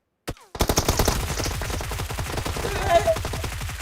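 Rapid automatic gunfire rings out in the mobile shooter PUBG Mobile, starting with one isolated shot and then settling into a steady, loud stream of evenly spaced rounds that lasts several seconds.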